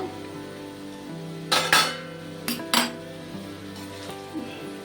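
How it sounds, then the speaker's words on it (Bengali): A metal lid is lifted off a pan of small mourola fish and a utensil stirs them, giving a few sharp clanks and scrapes over a faint background hum. "ঢাকনাটা তুলে দিচ্ছি, তুলে একটু নাড়ি চাড়িয়ে নেব।"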